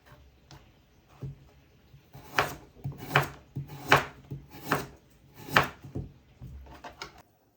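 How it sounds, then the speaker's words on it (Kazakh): Knife chopping carrots into fine pieces on a board, a quick burst of about six sharp, evenly spaced strikes in the middle, close up, with quiet handling before and after and no voices. "Енді сәбізімізді де майда қылып, салонға қылып турап аламыз"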